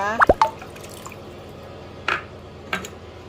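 Fish sauce going into a pot of chicken soup: a few sharp drips and plops close by, clustered at the start, followed by two softer isolated drops against a quiet background.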